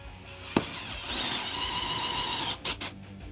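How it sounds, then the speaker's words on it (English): A 12V cordless drill drives a 1-inch screw into a stacked 2x3 stud, a steady whirring motor drone running for about a second and a half after a sharp knock, then a few short bursts as the trigger is feathered near the end. "we're going to be drilling in with both of our drills into stack 2x3 over here in the corner"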